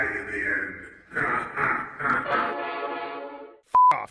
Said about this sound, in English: Fuck off, train.